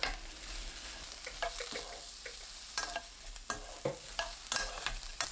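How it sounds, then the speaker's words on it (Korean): Garlic, green onion and shiitake mushrooms sizzle and crackle in a hot oiled pan while a utensil scrapes and stirs them in irregular strokes, close and clear. "지글지글 소리 나면 표고버섯 넣고 중불로 2분 30초 볶아주세요."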